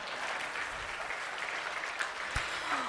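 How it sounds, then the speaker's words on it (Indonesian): Audience applause at an Islamic inspirational gathering, a steady broadband wash of many hands clapping at moderate distance, continuous and even throughout with a few slightly sharper claps. "tepuk tangan."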